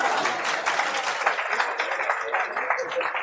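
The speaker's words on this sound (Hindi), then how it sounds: "शाबाश, भाई के लिए तालियां।" A classroom of students claps for a classmate during a lecture, dense steady applause filling the whole stretch at moderate loudness.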